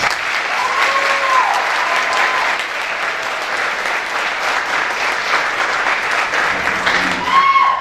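Sustained applause from a crowd, steady clapping throughout at even loudness, with a brief whistle-like tone near the start and end.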